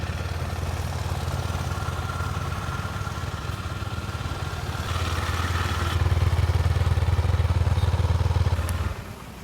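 A Husqvarna Svartpilen 250 motorcycle engine idles close by with a steady, throbbing putter that grows slightly louder and rougher before dropping off near the end.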